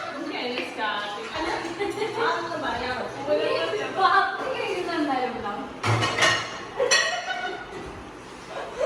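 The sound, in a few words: dishes and pots clattering while washing up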